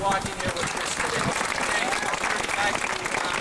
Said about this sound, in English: give yourselves a warm round of applause for watching here with Kris today